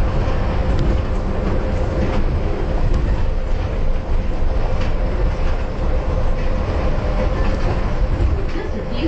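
The Las Vegas monorail rides along its single elevated rail after leaving a station, a loud, steady rumble and roar of the car in motion that fills the whole stretch from start to finish.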